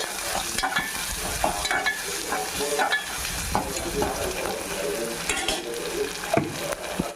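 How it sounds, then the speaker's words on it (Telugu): Cinnamon, cloves, cardamom, coriander leaves, mint and onion pieces fry in two spoons of oil for chicken biryani: a close, crackling sizzle broken by repeated scrapes and knocks of stirring. "2 స్పూన్లు ఆయిల్ వేసుకుందాం, సరిపోతుంది. చెక్క లవంగ యాలక్కాయలు, కొత్తిమీర, కొంచెం పుదీనా వేసానండి, ఉల్లిపాయ ముక్కలు"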